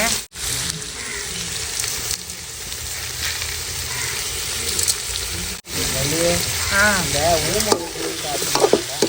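Tomatoes and salt sauté in a pan over a village cooking fire, giving a steady close sizzle and frying hiss with stirring scrapes, and a voice speaks over it near the end.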